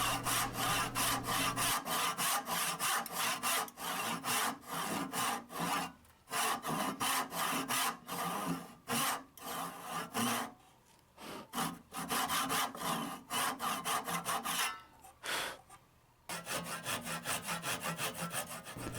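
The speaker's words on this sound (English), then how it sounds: "once I get the saw going, I'm focusing on following the line across the end grain." A hand saw cuts a walnut dovetail across the end grain with steady, rhythmic back-and-forth rasping strokes, close and loud, broken by a few short pauses, with no voices.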